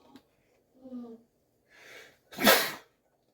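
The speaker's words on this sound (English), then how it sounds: "Pardon my sneezing, ladies and gentlemen." A single sharp sneeze bursts out near the end, preceded by a few quick breathy intakes and a soft nasal sound in a quiet room.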